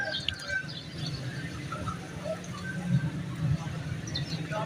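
Pigeons at a bird market in Lahore give soft, scattered coos and chirps over a busy, rumbling crowd murmur in a noisy outdoor setting.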